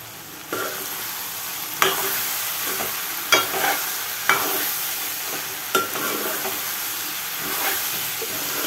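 Spoon stirring chili powder into a frying egg curry with alchanthalu, a steady loud sizzle and hiss broken by repeated scraping strokes against the pan.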